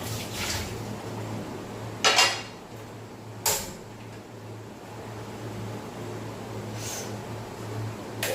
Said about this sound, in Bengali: কড়াইটা আমি ফার্স্টে ধুয়ে নেবো।